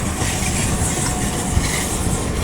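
The 22113 Kochuveli Superfast Express runs between Mumbai's Lokmanya Tilak Terminus and Shoranur, giving a loud, continuous roar of wheels on rails with steady hissing rush and no pauses.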